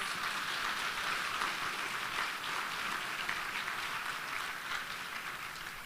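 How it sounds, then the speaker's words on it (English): Audience at a LIFT social advancement ceremony giving a round of applause, a dense, even wash of many hands clapping that holds steady and fades slightly toward the end. "Can we give them a round of applause?"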